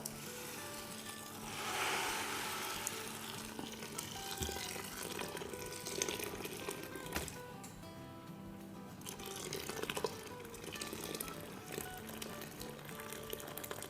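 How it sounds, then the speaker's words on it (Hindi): Hot boiling water, about nine cups, is poured into a cooking pot for haleem, giving a faint, steady splashing pour over roughly fourteen seconds, with no one speaking. "ये मैंने 9 कप गरम गरम पानी डाल दिया है"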